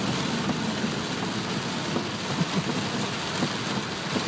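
Steady heavy rain pours down during flooding on South Staples in Corpus Christi, Texas, a dense unbroken hiss with faint patters and occasional splashes throughout, close and continuous with no voices.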